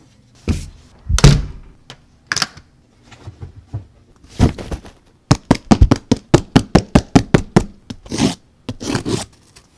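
Sharp knocks on a door come in scattered single thuds, then a quick run of about a dozen rapid raps, followed by a few more heavy knocks, loud and close in a quiet room.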